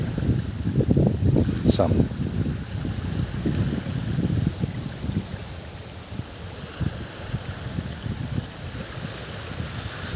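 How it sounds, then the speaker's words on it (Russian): A Skat 700 remote-controlled boat running across wind-driven waves, a buzzing motor over splashing water and gusting wind, louder at first and then steadier, with a brief spoken word. "Вот пульт, просто газ, а катер едет, держит прямой ход даже на таком волнении"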